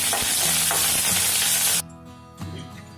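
Green chillies and curry leaves sautéed in a pan, a loud, dense, close sizzle with stirring scrapes that cuts off abruptly partway, leaving near quiet before a softer sizzle returns.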